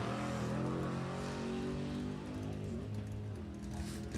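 1972 Chevrolet Nova drag racing car at an NHRA hot rod event, its engine running rough with a steady low droning rumble that wavers unevenly, heard from a distance.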